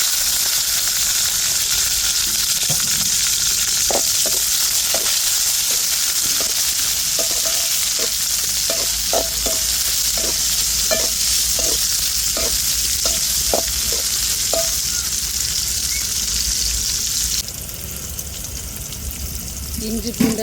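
Onion, tomato and chili sauté in a pan with curry leaves and whole spices, giving a constant close hiss of frying. Repeated utensil taps and scrapes fall in a loose rhythm through the middle, and the sizzle quiets near the end.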